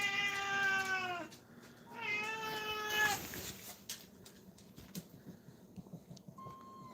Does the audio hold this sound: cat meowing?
yes